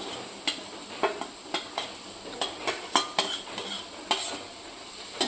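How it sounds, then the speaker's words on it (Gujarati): Onion stirred into garlic and chilies frying in a pan: a steady close sizzle with a spatula scraping and clacking against the pan at an irregular, fairly quick pace. No talking. "લસણ અને મરચાં સરસ થઈ ગયા છે હવે આપણે ડુંગળી નાખીશું"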